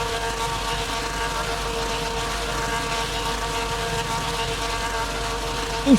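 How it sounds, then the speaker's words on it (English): Porsche race cars rev before a one-make cup race start, making a loud, steady, droning engine roar with sustained harmonic tones across the whole clip and a brief louder burst at the very end. "Porsches are revving the tires up."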